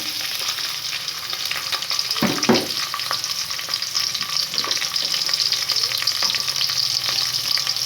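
Coarsely chopped onion fries in a pan for vegetable soup, making a loud, constant sizzle with a couple of brief stirring knocks early on.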